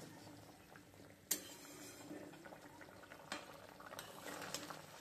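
Curry gravy simmers in a pan with a soft, steady bubbling hiss, broken by a sharp utensil clink early on and a few lighter clatters later, close and moderately quiet with no voices.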